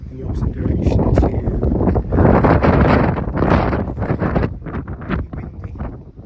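Strong wind buffets a microphone near King Alfred's Tower at Stourhead during a long trail run, a loud, rough low rumble that swells and gusts, with a muffled voice partly buried in it.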